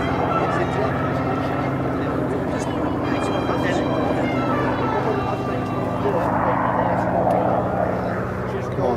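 A Spitfire Mk XVIII flies a four-point hesitation roll, its propeller engine droning loud and steady throughout with a slight swell in pitch, under a commentator's voice.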